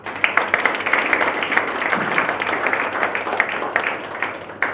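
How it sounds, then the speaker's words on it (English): A workshop audience breaks into a sustained round of clapping, many hands at once, dense and fairly loud from start to finish. "Can we clap?"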